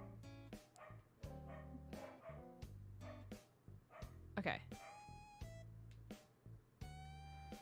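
Dogs bark and yip repeatedly in a home, in short uneven bursts close by, with a person speaking over and between the barks.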